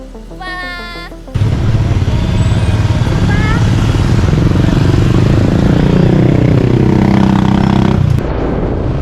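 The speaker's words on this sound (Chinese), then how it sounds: "但是坐在越野摩托车上的体验却是让我们印象深刻" An off-road motorcycle ridden in East Java, its engine starting up into a loud, steady rumble that runs close and unbroken for several seconds before dropping slightly at the end.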